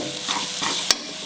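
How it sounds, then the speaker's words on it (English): Karela (bitter gourd) bhaji with Kolhapuri masala is stirred in a hot pan, a soft continuous sizzle with brief scraping strokes and one sharp clink near the end. "Stir it."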